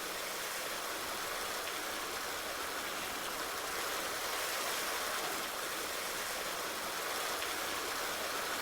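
In Farming Simulator 19, water runs into a chicken water trough, a steady, even rushing hiss that continues unchanged from start to finish with no talking.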